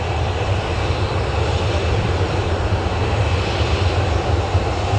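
An aircraft crossing the runway at Newcastle Airport, its engine giving a steady, loud droning rumble that holds evenly throughout with no voices.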